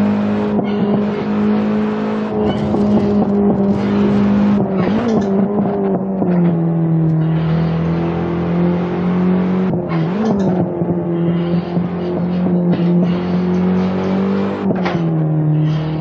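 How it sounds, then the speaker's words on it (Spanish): BMW M3 E30 racing at the Nürburgring in Assetto Corsa, its engine droning loud and close throughout, pitch sweeping up and down through repeated gear changes and revs, with no talk over it. "Tiene un sonido bacanísimo este carro, ¿verdad?"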